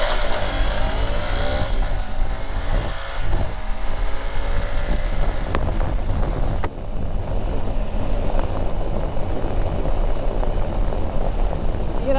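A 2021 Honda CRF300 Rally motorcycle cruises in a high gear, its steady engine drone and wind noise holding evenly throughout with only slight shifts in pitch.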